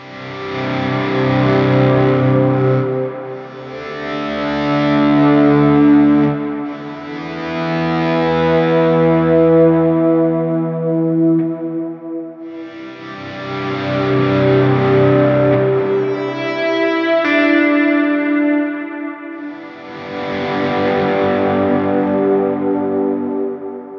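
Electric guitar chords through a Plimsoul overdrive into a GFI System Specular Reverb pedal swell in and sustain under a wash of reverb, each distorted phrase fading slowly before the next rises.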